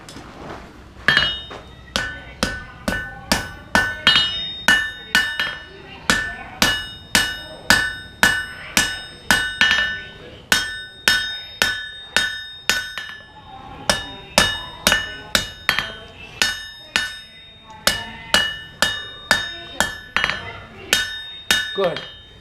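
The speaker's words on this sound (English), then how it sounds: "when I hammer this edge and I hammer that edge, it'll come back straight again" A heated knife blade is hammered during forging at Wild West City in Netcong, New Jersey: about thirty sharp, ringing metal-on-metal strikes in a steady, even rhythm, loud and close, with no talking.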